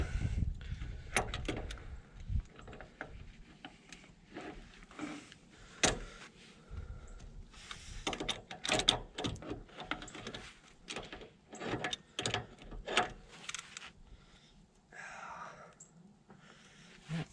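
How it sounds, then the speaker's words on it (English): A wrench works a binding nut on a Lippert 5200 lb trailer axle during a brake job, giving quiet, intermittent metallic clicks and scrapes in uneven bursts, with no talk. "This one's kind of getting bound up here, so I'm going to grab a wrench."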